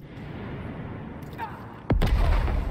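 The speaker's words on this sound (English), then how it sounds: "We're just going to throw a grenade at him." A grenade is thrown in the video game Necromunda: Underhive Wars, landing as one sudden, loud, booming blast near the end after a steady low rumble of game ambience.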